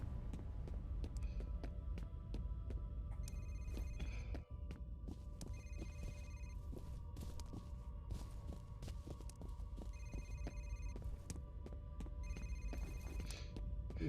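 An old-style telephone bell rings in repeated bursts with short pauses between them in the F.E.A.R. shooter game, set over a low, throbbing ambient hum with occasional clicks.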